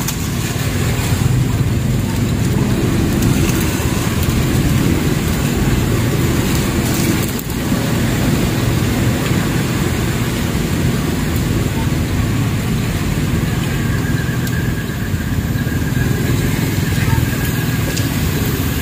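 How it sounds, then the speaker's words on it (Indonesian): Motorcycles pushing through a road flooded after heavy rain in South Sulawesi, a steady loud engine and water roar filling the whole stretch without pause, with a voice speaking over it. "Ini motor-motor yang paksa lewat ini."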